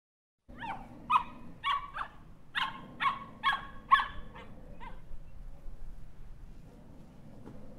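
A dog in a children's story gives a quick run of about eight close, bright yips and barks, then trails off into a faint, low whimpering murmur.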